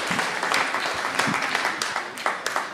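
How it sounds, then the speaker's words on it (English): A church congregation at a Sunday youth service claps in a lively burst of applause, close and steady, with uneven sharp claps throughout. "So give Rosie a big cheer."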